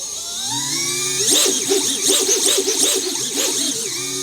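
The small electric motors of a Lumenier QAV X quadcopter drone whine up in pitch on arming, then hold a loud, close, warbling high buzz that wavers slightly.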